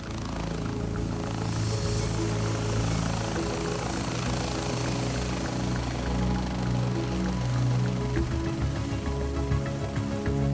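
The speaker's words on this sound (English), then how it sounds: "Rescue helicopters are the fastest way to get around the mountains." A rescue helicopter flying over British Columbia's mountains gives off a steady, continuous rotor drone with a low throbbing pulse, holding even and moderately near the whole time, no voices.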